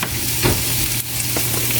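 Chopped tomato sautés in a hot frying pan with a steady sizzle, broken by a few brief scraping stirs, close and fairly loud with no voices.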